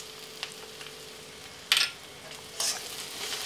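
Onion and bombil fish are frying in a pan over a medium flame. A low steady sizzle is broken by two louder scraping bursts as the spoon stirs, close and without talk.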